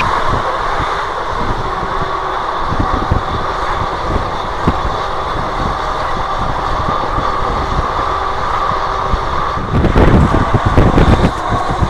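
Kanchanjunga Express running at around 110 km/h near Malda, a loud continuous rumble and rattle of rail wheels heard from inside the coach, with a rougher, heavier clatter near the end.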